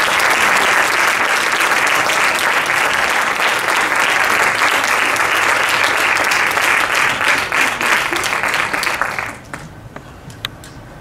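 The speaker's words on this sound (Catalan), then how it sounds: "Un fort aplaudiment per donar-los ànims." A crowd applauds steadily and loudly at a International Women's Day event in Navàs before a music performance, sustained clapping that fades out near the end.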